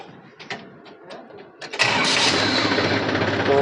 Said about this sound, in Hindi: तो मैंने ट्रैक्टर को कर लिया स्टार्ट।